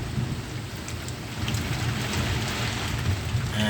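Steady rain pours down during a storm in Saudi Arabia, with a dense continuous hiss and low rumbling thunder rolling underneath throughout, loud and close, with no voices.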